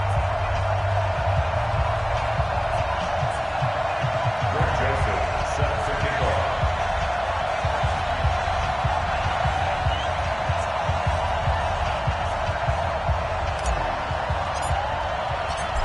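Stadium crowd roaring steadily throughout an Eagles versus Cowboys football video game on PS4, a dense, continuous wash of cheering with occasional louder swells and a commentator-style voice over it.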